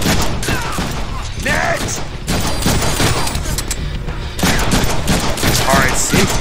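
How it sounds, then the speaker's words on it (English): Machine gun fire in the Deadpool video game, dense rapid bursts of gunshots filling the clip with a short voice calling out over the shooting. "I got machine gun for one."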